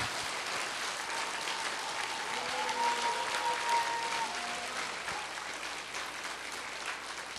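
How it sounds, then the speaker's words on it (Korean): A church congregation applauding at an evening revival service, steady dense clapping from a large crowd in a reverberant hall, with a brief voice heard partway through. "되게 박수 한번 쳐주시는데."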